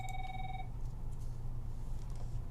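A telephone rings once with a short electronic tone that cuts off after about half a second, followed by a low background hum.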